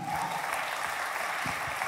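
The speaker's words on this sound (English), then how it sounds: "let's give all 3 of them a round of applause once again" A crowd claps steadily in a dense, even patter of applause, moderately loud, with no voices standing out.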